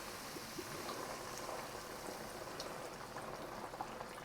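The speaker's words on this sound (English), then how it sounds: "Let that boil for a minute to boil off the alcohol." White wine boils in a pot on the stove, a faint, steady bubbling and crackle with no voices.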